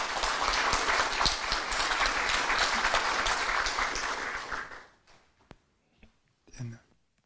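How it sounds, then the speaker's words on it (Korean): An audience applauds a conservative party candidate at a political gathering, with dense, loud clapping for several seconds that fades out, followed by scattered faint sounds and a bit of murmuring. "큰 박수 부탁드립니다."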